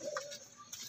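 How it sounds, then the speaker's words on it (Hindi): A pigeon coos once softly among a loft of breeding pigeons, a brief low call close by, with faint ticking and rustle around it. "डैडी कबूतर है"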